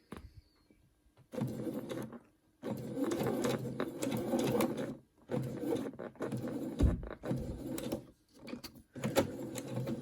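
A sewing machine top stitches a seam on a reversible washable fabric face mask, running in several close bursts of rapid stitching separated by short silent pauses.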